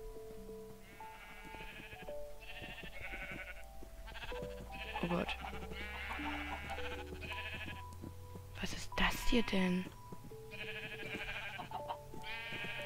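Repeated sheep bleats from the Minecraft video game, a flock crowded together in a hole, sounding in several bursts across the clip over a low drone, with someone talking in German in between.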